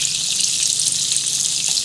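Banana fritters fry in honey and oil in a Teflon pan, a loud, continuous bright sizzle with steady crackle close by.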